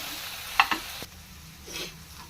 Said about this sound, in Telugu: ఇప్పుడు టమాటో ముక్కలు వేసుకుందాం